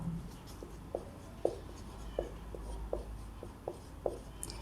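A pen writes out a matrix math problem by hand on paper, giving soft, scratchy strokes in a steady, irregular rhythm, close and quiet, with no speech.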